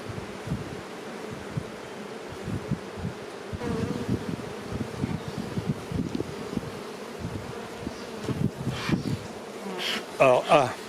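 Honeybees buzz around a hive frame being inspected during a winter cellar-overwintering trial, with a steady close hum under rustling and handling noises. Louder buzzing bursts come near the end.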